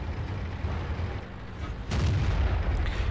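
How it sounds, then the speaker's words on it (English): Artillery fire in the World of Tanks video game: a continuous rumbling battle noise that jumps into a heavier, louder boom partway through and keeps roaring. "as you see the artillery already come in there"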